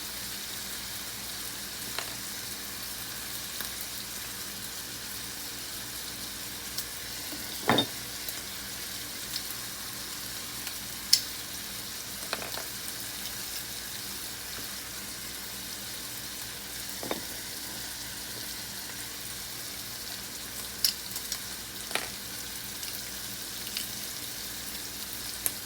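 Pressed garlic cloves frying in a pan with browned sausage, a steady soft sizzle running throughout with a few sharp clicks and stirs over it.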